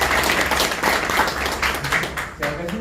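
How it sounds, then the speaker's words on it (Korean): Audience at a labor forum panel discussion applauding a presenter: a few seconds of dense clapping that fills the room and fades slightly toward the end, with faint voices mixed in. "이 대목에서 박수 한번 쳐드려야 되는 생각입니다"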